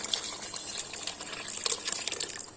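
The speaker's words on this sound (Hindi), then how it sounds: "और 1 गिलास के पानी का शामिल कर रही हूँ।" Water poured from a glass into a cooking pot of soaked rice and beef broth for biryani, a steady close splashing gush with small bubbling spurts, no voices.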